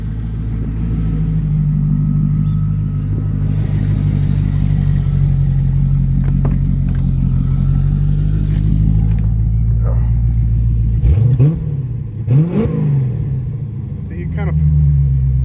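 A C4 Corvette rumbles steadily nearby as it is driven and pulled in, engine droning loud and low with a few brief revs near the end.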